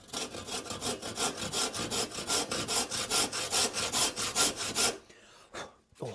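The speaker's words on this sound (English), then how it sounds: "I haven't used a hand saw for ages." A hand saw cuts through wood in steady, rhythmic rasping strokes, close and continuous for about five seconds before it stops.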